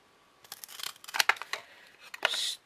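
Scissors cut pieces of paper up close: a few irregular snips and crisp slicing bursts with rustling between them, fairly quiet and with no speech.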